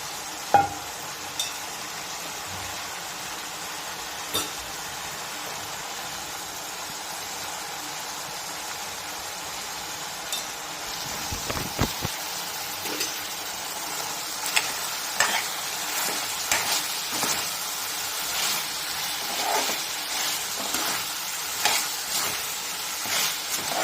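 Chicken pieces fry in a pan for a homestyle chicken curry, a continuous sizzle broken by repeated scraping stirs and clinks of a spoon that grow busier and louder midway through.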